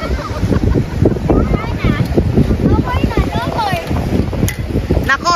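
Strong wind on a beach roars and gusts steadily beneath excited talking voices, with flapping, rustling noise throughout as a tent gives way.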